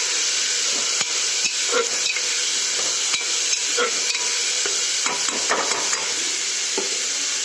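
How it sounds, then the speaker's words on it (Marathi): Masala rice khichdi ingredients sauté in a hot pan, a steady loud sizzle of frying with repeated stirring scrapes running throughout, with no voices. "आता हे सगळं छान परतून घ्यायचं"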